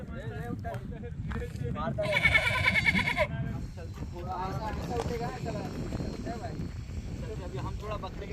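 Goats bleat in a village yard, with one loud, sustained cry standing out over steady background noise, and people talk nearby throughout.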